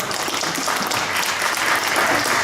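Audience applause at a pony-voice TV show reading at ALICON 2019 fills the room as a dense, steady wash of clapping, loud and continuous from start to finish.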